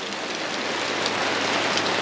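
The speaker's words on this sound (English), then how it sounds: "it is pouring with rain" Heavy rain pours down at Lake Moogerah during a flood, a steady, dense hiss of drops hitting surfaces, loud and unbroken throughout.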